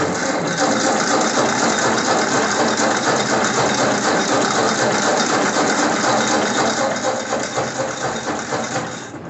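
A Ford NAA 600 tractor engine runs steadily and loudly close by, with a rough, even idle rhythm throughout and a slight waver near the end.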